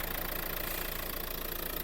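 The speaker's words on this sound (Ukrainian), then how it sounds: "Рівненько працює моторчик, нема ніяких підтикань." A 2013 Renault Scenic engine idles under the open hood, a faint, even, continuous hum with a steady mechanical pulse and no stumbles.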